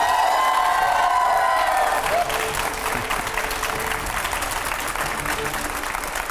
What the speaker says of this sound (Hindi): बार और जोरदार तालियां हो जाए।